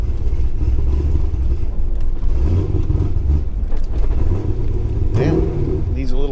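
A cammed manual C6 Z06 Corvette pulls away from a parking lot, its deep, choppy idle rumbling steadily and swelling briefly near the end, with people talking over it.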